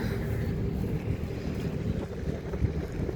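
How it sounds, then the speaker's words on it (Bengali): A cargo ship moves along a river between industrial areas near Mongla, its low steady rumble blending with wind noise on the microphone and lapping water, continuous and fairly loud throughout without talk. "জাহাজ মালবাহী জাহাজ যাচ্ছে"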